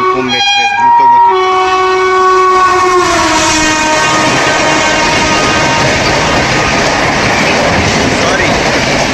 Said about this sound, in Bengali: হাওড়া নিউ দিল্লি রাজধানী এক্সপ্রেস, কুম্ভ এক্সপ্রেস নয়, হাওড়া নিউ দিল্লি রাজধানী এক্সপ্রেস